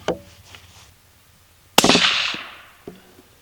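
A 6.5 Grendel Howa Mini rifle firing 120gr Speer Gold Dot loads: one loud, sharp shot midway with a long, echoing decay, plus a fainter report at the start and a small knock near the end.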